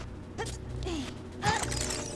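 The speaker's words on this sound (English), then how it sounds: "we need to unlock his door" A boss door in Zelda: Ocarina of Time being unlocked with a key in Dodongo's Cavern, a short mechanical creak and clank followed by a louder grinding clunk near the end, with no voices.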